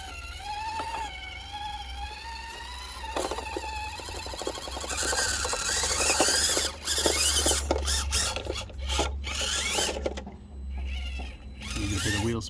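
An FMS FCX24 mini RC crawler drives over rough terrain, its small electric motor whining at a steady high pitch with bursts of wheel spin and rattling over ground, fairly close, with some outdoor background noise.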